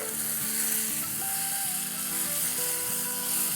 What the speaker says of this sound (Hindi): बस इसे हम 2 मिनट के आसपास भूनेंगे अच्छे से